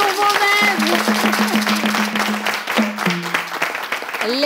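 A live audience at an Animateur 3.0 dance show bursts into sustained applause, the clapping steady and dense across the whole stretch, mixed with music and a voice over it.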